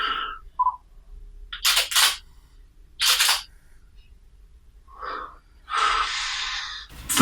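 An entry-level DSLR autofocuses with a string of short, odd mechanical whirring and buzzing bursts, some brief and some stretched, close to the mic over a quiet background.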